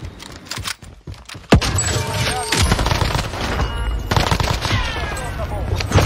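Rapid bursts of gunfire from the video game Warzone, loud and dense, with overlapping automatic fire and sharp impacts continuing throughout.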